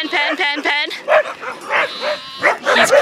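A dog barks and whimpers nearby in short yips and whines, loud and repeated, with other animals stirred up around it.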